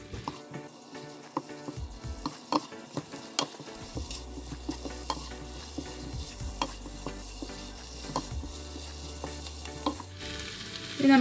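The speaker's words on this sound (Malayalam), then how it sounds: "ഇത് നന്നായിട്ട് നമുക്കൊന്ന് മിക്സ് ചെയ്യാം." Chicken pieces are stirred in a pan for Thalassery dum biriyani, with repeated close spatula scrapes and clinks over a steady frying sizzle, and no voices.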